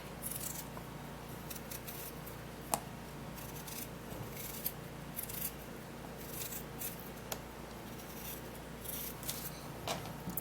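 A potato is being peeled, giving quiet, continuous scraping with a few sharper clicks scattered through, close and alone without talk.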